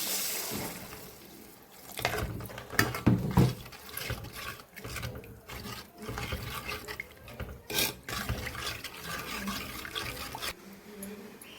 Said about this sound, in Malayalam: ആവശ്യമുള്ള വെള്ളം ഒഴിക്കുകയാണ്